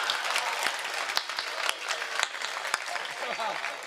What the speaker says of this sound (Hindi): तालियां तो अगली बात पे बजा देना